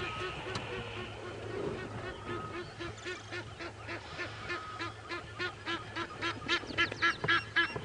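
Egyptian geese squabbling in the early morning on a safari drive at a game reserve, with a run of harsh honks and quacking calls that grow louder and more frequent toward the end over a low vehicle hum, with some talk.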